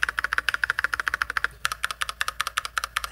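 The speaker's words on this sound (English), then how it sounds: "The thok, that spacebar sounds amazing. It's not loud at all." Mechanical keyboard typed on close up, a fast even run of crisp key clacks, a short pause, then more strokes including deeper thocks from the spacebar and enter key.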